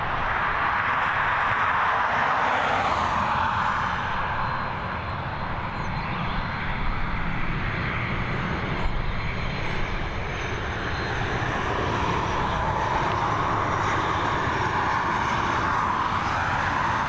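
An airliner lands on the runway at Dublin Airport into a strong headwind. Its engines give a sustained, fairly distant roar with a broad hiss that stays even throughout.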